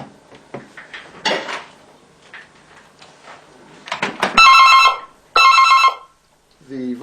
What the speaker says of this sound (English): Then, when the phone rings,